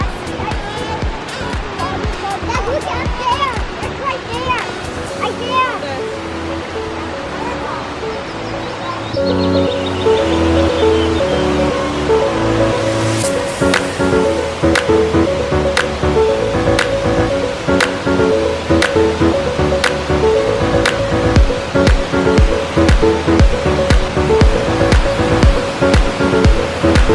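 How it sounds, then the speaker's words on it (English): A big hidden waterfall in Oregon roars steadily and loudly throughout, a constant rushing wash of water, with people talking close by over it. "I see a little bit of the waterfall. It's big, the waterfall."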